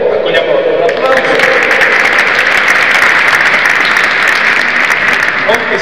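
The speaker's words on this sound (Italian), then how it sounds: "accogliamola con un applauso" An audience at a cultural strategy conference applauds to welcome a speaker, loud and dense clapping that holds evenly for the whole clip.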